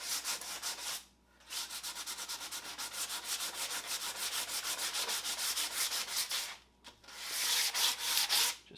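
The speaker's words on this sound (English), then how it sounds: "whole slab along the face of it and running the sandpaper down." Wood slab sanded by hand with 80 grit sandpaper, a rhythmic scratchy rubbing in quick repeated strokes, close and steady with two brief pauses.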